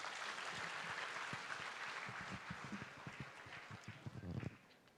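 An audience claps at a ceremony following a Bharatanatyam dance performance, dense sustained applause that thins into scattered individual claps and stops near the end.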